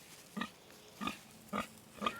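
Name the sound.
pig grunting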